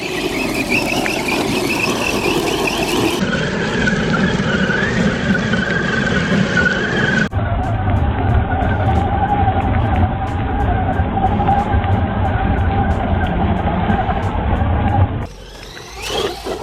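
A brushless 4x4 RC rock racer drives and turns hard, its motor whining at a high pitch with tires squealing and scrabbling, loud and continuous and up close, with no voices over it.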